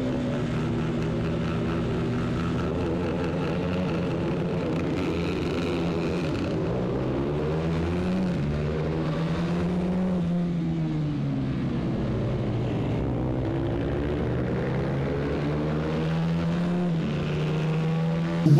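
Honda CBR125R motorcycles race in a Moto Team class event at a circuit, a pack of small engines droning and rising and falling in pitch continuously at moderate distance.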